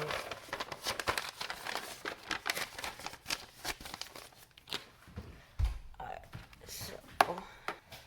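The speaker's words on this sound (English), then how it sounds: "So let's get this plugged in. And then we'll do some monkey typing." Rapid, clattering keystrokes on a Redragon S107 keyboard, close up and fairly continuous, with a voice talking intermittently over the typing.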